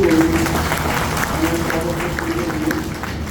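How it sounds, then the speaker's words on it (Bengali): An audience claps loudly and steadily at the inauguration of an expatriate waiting lounge at Shahjalal airport. The dense, sustained applause fills the room while a voice carries faintly underneath. "আমরা সবাই মিলে তাকে আমরা জোরে হাততালি দিয়ে"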